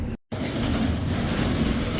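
An engine runs steadily in a workshop before shutdown. Its low, constant rumble and droning hum fill the space loud and close after a brief dropout at the start, and nobody speaks.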